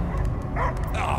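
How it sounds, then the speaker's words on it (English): Dog barking in the Guardians of the Galaxy video game, several sharp yips and woofs in quick succession over a steady low game ambience. "I hear only barking."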